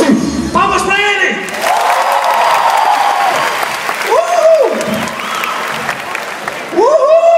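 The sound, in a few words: audience applause for a comedian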